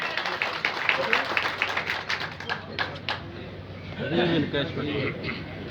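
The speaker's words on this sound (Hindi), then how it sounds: "भरपूर तालियां दे, भरपूर तालियां" Applause from a crowd at an outdoor union rally, a dense run of claps that thins out toward the end as a voice and other people talking take over.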